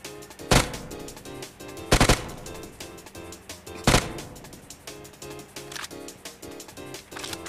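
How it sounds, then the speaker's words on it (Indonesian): Gunfire in the mobile video game PUBG Mobile, loud sharp shots and short bursts spaced a second or two apart over a busy background of game sounds and clattering rapid fire. "Ada yang datang, kita tembak dong sebentar."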